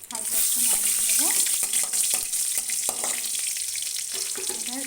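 Whole green chillies fry in hot oil as they are stirred, giving a dense, crackling sizzle with bursts of popping and the scrape of a utensil close by.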